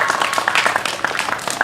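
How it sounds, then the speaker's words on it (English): Children applaud at a summer camp frisbee demonstration, a brief, lively burst of loud, close clapping from a small group. "Let's give them a quick round of applause."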